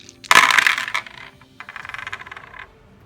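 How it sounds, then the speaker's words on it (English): Command dice for a Deadzone tabletop game rolled onto a hard surface: a loud clattering burst as they land, then a second, quieter spell of rattling and tumbling before they settle. "Roll my command dice."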